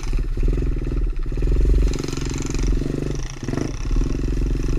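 Chinese pit bikes, a Tao Tao DB24 and an Apollo 70, run nearby with a loud, throbbing low engine chug that stays steady with slight rises in revs throughout.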